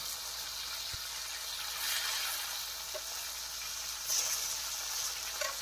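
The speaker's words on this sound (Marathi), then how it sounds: "अशा जंगलामध्ये मच्छी फ्राय कसं पलटी मारायचं." Fish frying in a pan outdoors in a forest, a steady, fairly quiet sizzle with a faint crackle and a brief scrape or knock as the pieces are turned.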